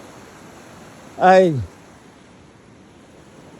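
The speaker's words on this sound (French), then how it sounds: "Si vous n'avez pas de misère avec le bruit des cascades pour dormir le soir" Steady broadband roar of waterfall cascades at Stamp River Provincial Park, a constant rushing wash heard throughout, with a brief spoken word in the middle.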